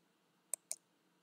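A computer mouse clicks twice in quick succession, two sharp, faint taps close together against a quiet background.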